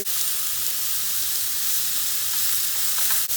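Köfte meatballs sizzle and spit steadily in a hot frying pan, a continuous close, loud frying hiss with no talking.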